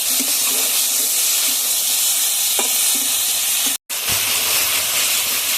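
Tomatoes frying in a pan with onion, garlic and salt for a chicken curry, a loud continuous sizzle with a few soft scrapes of stirring and a brief dropout.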